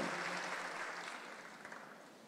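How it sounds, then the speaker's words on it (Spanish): A church congregation applauds, a faint, dense wash of clapping heard from a distance that slowly tapers off. "Fuerte aplauso a Jesús."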